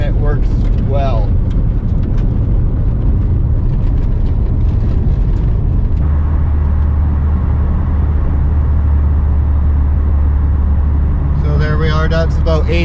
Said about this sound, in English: That's about 80 kilometers an hour on some pavement, just to show you the sound levels in the car